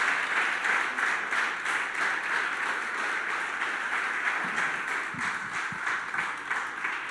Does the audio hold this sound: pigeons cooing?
no